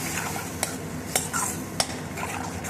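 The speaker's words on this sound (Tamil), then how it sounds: "இப்போ நல்லா கலரிக்கலாம்." A spoon stirs egg rice with onions in a pan, the low scraping broken by a few sharp clinks against the metal over a soft sizzle.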